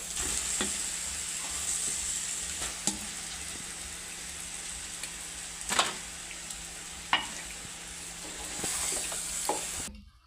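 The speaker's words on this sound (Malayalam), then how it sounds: "നേരത്തെ വറുത്ത ചിക്കൻ തട്ടുകയാണ്." Pre-fried chicken is stirred into biryani masala in a pan, a constant sizzle broken by a few sharp scraping knocks of the spatula, close and steady throughout.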